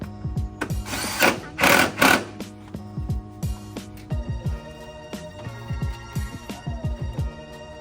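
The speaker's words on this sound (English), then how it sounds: "So after that, run those bolts down." A power driver running bolts down on a 2021 BMW F96 X6M headlight, close up: rapid ratcheting clicks in steady runs, two louder whirring bursts early on, with no talking.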